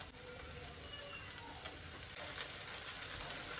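A wet mixture cooking on a stove to dry out its moisture, a steady soft sizzle and crackle that continues evenly throughout, fairly faint and close.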